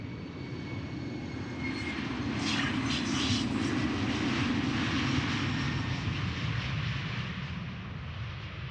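An Embraer 190 jet departs Amsterdam Schiphol airport, its engines a sustained, rumbling roar that swells slightly and holds, close and loud, with no talking.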